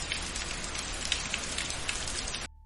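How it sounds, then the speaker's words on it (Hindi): Light rain falls on a farm field, a dense steady hiss of drops pattering, fairly loud and continuous before cutting off abruptly near the end. "पूरे गांव में धूप है, लेकिन हरिरम के खेत पर हल्की बारिश गिरने लगती है।"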